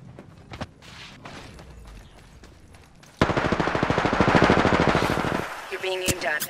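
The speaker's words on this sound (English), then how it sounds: "Getting shot at." Rapid automatic gunfire in a first-person shooter game erupts midway, a dense burst of rattling shots, loud and close, after quieter scattered shots and game noise.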